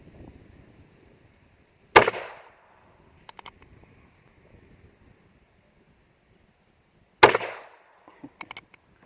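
Two sharp, loud reports from an old used Herters .22 rifle fired at a shooting range, spaced several seconds apart, each with a short decaying ring followed by faint clicks of handling in between.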